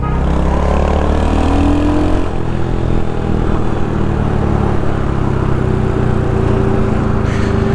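Royal Enfield Hunter 350 motorcycle engine droning loudly and steadily while riding, revving high with a long-geared pull and a brief shift in tone partway through, with no talk over it.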